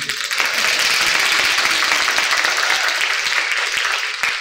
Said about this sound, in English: Everyone clap for them.